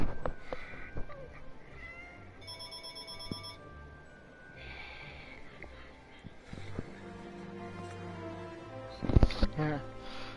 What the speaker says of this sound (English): That's my cat who's saying, dinner time!